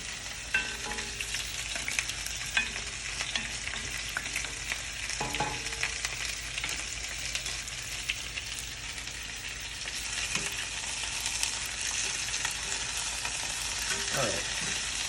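Finely diced small shallot sautes in a hot pan, a steady close sizzle and crackle of frying running throughout with occasional stirring scrapes and clinks, no voices.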